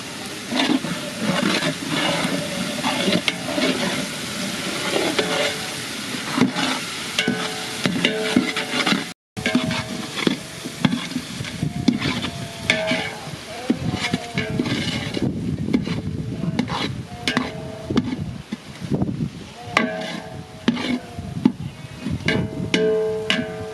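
Ginger paste for a village-style biryani stirred as it fries in a pan: a steady, close scraping and sizzling that runs throughout, broken by one brief dropout partway through.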